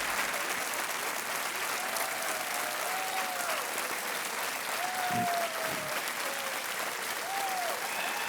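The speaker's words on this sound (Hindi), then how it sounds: "और तालियां बजती रहनी चाहिए" Steady applause from a studio audience on a Hindi TV quiz show fills the whole stretch at an even level, with a voice briefly rising over it partway through.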